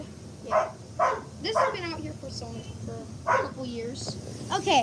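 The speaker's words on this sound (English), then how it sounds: "if you hear that barking" Dogs bark in short bursts, close by outdoors, with people talking over and between the barks.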